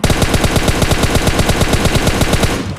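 Rapid automatic gunfire from the mobile battle-royale game PUBG Mobile, a loud, evenly spaced burst of roughly twenty shots over nearly three seconds that cuts off abruptly, with no talking.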